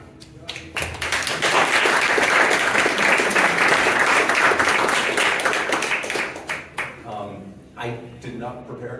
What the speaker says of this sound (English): I hope you welcome him with applause.